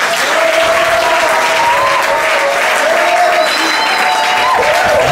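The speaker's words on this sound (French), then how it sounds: "Acclamons pour le Seigneur." A church congregation claps loudly and steadily throughout, dense and close, with faint voices and cheering mixed into the sustained applause.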